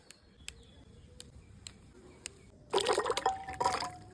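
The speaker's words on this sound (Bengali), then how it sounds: "আমড়াগুলো ভালো করে ধুয়ে নেব।" Hog plums are washed by hand in water. After a few faint drips and ticks, a close burst of splashing and sloshing begins about two-thirds of the way in and lasts to the end.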